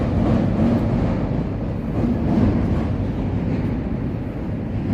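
A CTA Green Line elevated train crosses Lake Street in Chicago, a loud, continuous rumbling roar of wheels on track that holds steady throughout with no voices.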